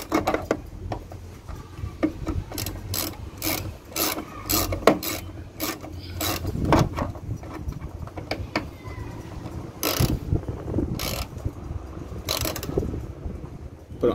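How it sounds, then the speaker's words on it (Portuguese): A hand wrench works bolts during assembly of a motorhome, giving repeated rasping ratchet clicks in uneven bursts, close up and steady over a low background. "essa aqui então é a chave que deve ser usada para parafusar isso aqui"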